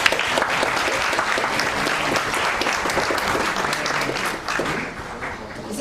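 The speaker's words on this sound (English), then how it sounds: "Please give them a round of applause" Steady applause from an audience at a Chromebook handover ceremony, dense and sustained throughout before easing slightly near the end.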